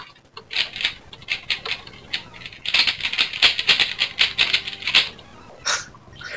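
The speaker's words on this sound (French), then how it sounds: "Le gars qui s'excite sur son clavier." Rapid, excited typing on a keyboard, heard alone and near: dense bursts of clicky keystrokes with brief pauses, ending in a couple of isolated taps.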